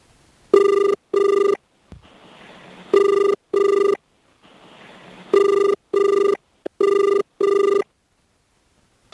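A telephone rings in a call that goes unanswered, giving paired electronic ring bursts repeated in three groups with quiet hiss between, loud and close.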